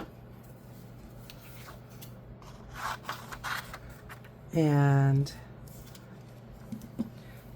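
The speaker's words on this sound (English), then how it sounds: "get my scissors." Scissors snip through paper labels at a craft table, a short crisp cutting burst standing out clearly against quiet room tone, with small paper handling rustles before it and someone talking nearby.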